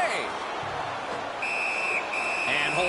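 In the NHL 19 ice hockey video game, a referee's whistle blows in two sharp, sustained blasts over arena crowd noise, with a commentator talking throughout.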